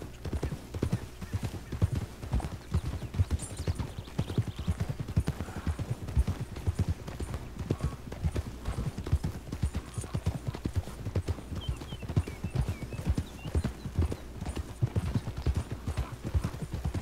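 Horse hooves clip-clop in Red Dead Redemption 2 as a horse travels through open country, a steady rhythmic patter of hoofbeats running throughout, close and even, with an occasional faint whinny and no talk.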